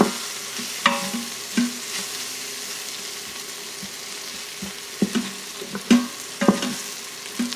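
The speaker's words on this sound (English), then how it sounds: "So I'm putting the flour in there, and I'm going to make a roux out of the oil that's down in the pot" Flour and oil stirred into a roux in an Instant Pot: a soft, steady sizzle with intermittent scraping and tapping of a utensil against the pot, fairly quiet and with no talking.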